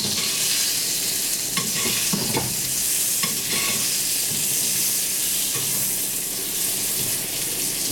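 A saddle of wild boar fries in a pan and is basted with clarified butter, giving a constant loud sizzle and crackle with spoon-stirring and spattering bursts throughout.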